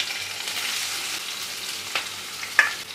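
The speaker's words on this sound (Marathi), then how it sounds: "परतून घेऊया. आपल्याला हा कांदा आहे ना तो मऊ करून घ्यायचा आहे" Onion sautéing in hot oil in a kadhai with mustard seeds, cumin, curry leaves and green chillies, a steady close broadband sizzle with a few faint spatula taps near the end, no voices.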